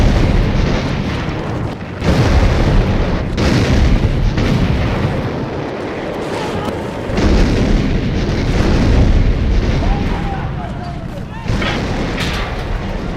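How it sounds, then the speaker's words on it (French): Allied naval artillery bombardment of coastal defenses in 1944, heard as a sustained, loud rumbling barrage of booms and blasts layered over one another, with no break in the din. "À l'aube, l'artillerie navale alliée prend le relais afin de pulvériser le mur de l'Atlantique."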